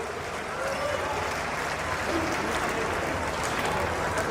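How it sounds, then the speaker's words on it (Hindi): An audience at a religious gathering in Narnaul, Haryana, claps to welcome the saints, dense steady applause throughout with a faint murmur of voices underneath. "आप सभी लोग एक बार कर्तन ध्वनि से जोर से ताली बजाकर संतों का स्वागत वंदन अभिनंदन करें।"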